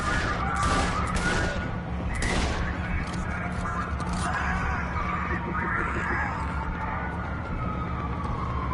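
Gunfire in Saints Row The Third Remastered, a few loud cracking shots early on amid explosive thuds, then a rumbling, noisy firefight continuing at lower intensity.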